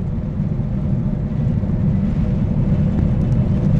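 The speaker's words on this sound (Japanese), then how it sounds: "あれはボーイング767ですよね、多分" A Boeing 767 jet airliner roars past in a steady, heavy rumble that builds slightly as it goes, heard from a ferry near Tokyo Bay, with no voices.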